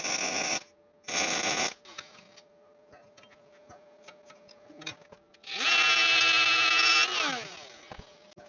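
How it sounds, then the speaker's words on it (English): Tack welds on a metal brolga sculpture: two short loud crackling bursts near the start, then a longer sustained buzzing weld with a steady tone later, separated by quieter workshop hum and light clinks. "just going to put a couple of tacks on it just to hold it in place"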